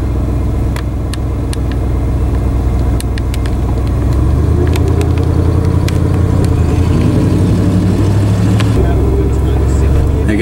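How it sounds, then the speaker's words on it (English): A truck driving past on a road, heavy low engine rumble swelling and fading over several seconds amid steady traffic noise and clicks, with a person talking. "There's a truck."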